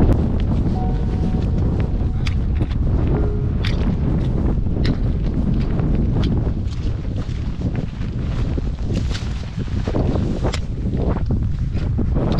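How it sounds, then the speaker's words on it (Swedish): Wind buffets the microphone in open mountain terrain near a lake, a steady loud rushing roar with gusty swells that lasts the whole stretch, no voices heard. "Blåser upp lite."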